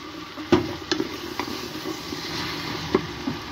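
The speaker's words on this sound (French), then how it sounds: "Je rajoute mes pois chiches." Chickpeas tipped into a simmering Algerian kebab sauce and stirred, with a few distinct spoon knocks and scrapes over a low, steady sizzle, close by.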